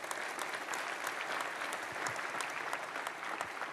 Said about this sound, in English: let's give him a round of applause, folks